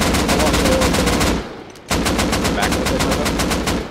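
Rapid automatic gunfire in the survival video game Rust, loud and close, with a dense stream of shots, a short pause and then another sustained burst, while a player speaks briefly over it.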